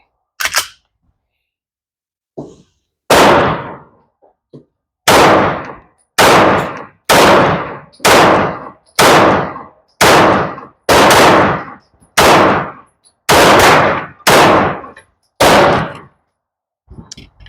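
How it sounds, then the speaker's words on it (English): A Walther PDP pistol fires about ten sharp, loud shots in a steady, slightly uneven rhythm roughly one second apart, heard at close range on a shooting range. "regular Walther PDP, 10 rounds. Be shooting upper right."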